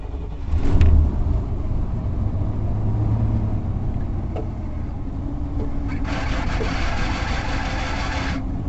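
A motorhome engine idles with a low steady rumble and takes a light blip of gas, while a rough squealing hiss from slipping power steering belts rises near the end.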